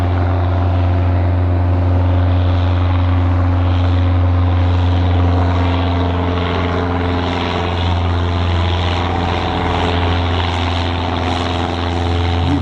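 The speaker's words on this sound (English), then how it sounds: "So there's a 172" A Cessna 172 with a Lycoming flat-four piston engine departs from Blackpool Airport, its propeller drone loud and steady throughout, a continuous droning buzz heard alone without speech.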